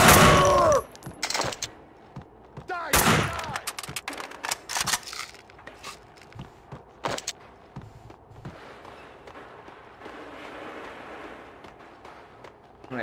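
AK-47 fire in Max Payne 2: several loud sharp bursts and single shots in the first seconds, then scattered quieter impacts and clatter.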